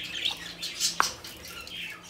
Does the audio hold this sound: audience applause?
no